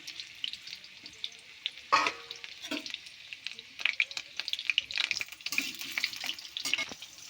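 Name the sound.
potatoes frying in oil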